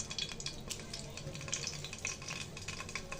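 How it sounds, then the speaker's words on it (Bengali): Lentil fritters (dal bora) fry in hot oil in a pan, with a steady close crackle and sizzle and small popping bursts continuing throughout. "তেলটা গরম হয়ে গেছে, এখন আমি বড়াগুলো ভেজে নিব।"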